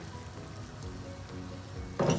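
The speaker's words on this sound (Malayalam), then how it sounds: "വെള്ളം നന്നായി തിളച്ച് വന്നിട്ടുണ്ട്." Steady low bubbling and hissing of water at a rolling boil in a pot for cooking rice, continuous and close, with a louder burst of bubbling near the end.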